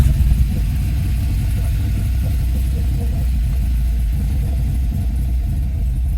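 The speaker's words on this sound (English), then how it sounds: "Man, this car sounds so good." A 1974 De Tomaso Pantera L with a 351 Cleveland V8 rated around 700 hp and a five-speed ZF gearbox idles close by, a deep, steady lumpy rumble with no voices over it.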